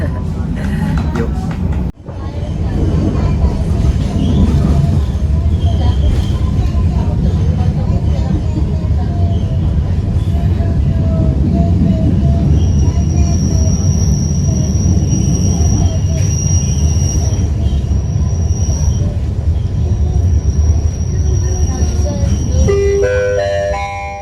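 An economy-class passenger train on the Surabaya to Bandung route runs on its rails with a loud, continuous rumble and rattle, a thud early on and faint wheel squeal rising near the end.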